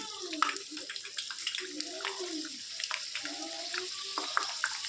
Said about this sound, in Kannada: ಎಣ್ಣೆ ನೀಟಾಗಿ ಬಿಸಿ ಆದಮೇಲೆ ನಾವು ರೆಡಿ ಮಾಡ್ಕೊಂಡು ಇಟ್ಕೊಂಡಿರೋ ಸಮೋಸಾನ ಹಾಕ್ಕೊಂಡ್ಬಿಡ್ಬೇಕು ನೋಡಿ ಈ ರೀತಿ ಹಾಕ್ಕೊಂಡ್ಬಿಡ್ತೀನಿ